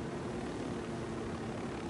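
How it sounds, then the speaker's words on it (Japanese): Helicopter in the video game Ghost Recon Wildlands, a steady, close rotor and engine drone with a low thrumming hum that holds evenly throughout, with no talking. "じゃあヘリあるし行くか。"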